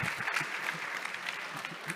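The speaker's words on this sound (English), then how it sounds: "can we have a big round of applause for our friend Luke Julia." A conference audience at a scientific event claps for a guest speaker, a soft, steady patter of applause heard from a distance, fairly even across the short span.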